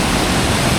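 Meenmutty waterfall in Wayanad, Kerala, rushes as a dense, steady, loud roar of falling water that fills the short moment without pause or voices.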